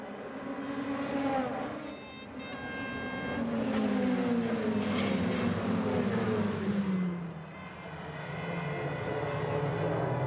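DTM touring race cars at the start of a 2000 race: loud, continuous engine roar with rising and falling pitch as cars pass nearby, swelling and fading in waves across the whole stretch.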